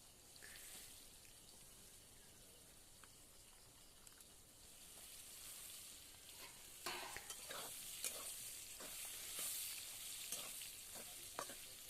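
Squeezed, soaked soybean chunks sizzle in hot oil in a pan. A faint continuous frying hiss grows busier as a spatula scrapes and stirs them in sharp, irregular clicks.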